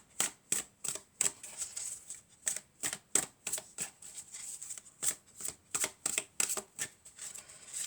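A deck of cards is shuffled repeatedly for a tarot-style fairy card reading, giving a rapid series of crisp riffling flicks in uneven bursts, close and fairly quiet, with no talking.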